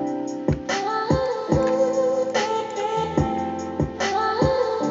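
Synth lead line for a Thai song with reverb added, playing a melodic phrase of swooping, pitch-bent notes with a lingering echoing tail, heard alone without talk.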